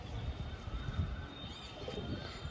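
A black kaldum pigeon gives faint, low cooing amid quiet background noise, the soft murmuring calls repeating unevenly close by.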